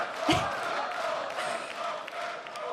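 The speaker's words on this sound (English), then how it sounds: "A big applause for Warlock and Moss and the French crowd, excited as always" A French crowd at a League of Legends Worlds esports match (SKT vs EDG) applauds and cheers, a distant, steady wash of clapping and shouts with one brief louder whoop near the start.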